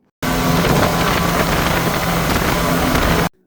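Flying Fish speedboat engine running at speed on a Maldives island crossing, a loud, steady roar with rushing water and wind that starts abruptly, holds constant, then cuts off.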